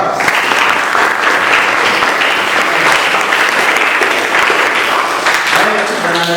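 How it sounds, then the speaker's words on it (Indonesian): A classroom of high school students bursts into loud, dense applause for two classmates, with a faint voice audible under the clapping. "Tepuk tangan buat Mujahid dan Faros."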